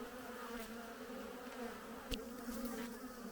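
Honey bees at an open hive make a continuous close buzzing drone, with a few brief louder passes of individual bees near the listener.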